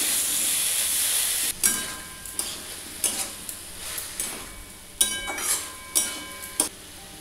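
Cut potatoes fry and are stirred in a spice mix with turmeric and salt: a steady, close hiss of sizzling oil broken by repeated utensil scrapes and clinks about once a second.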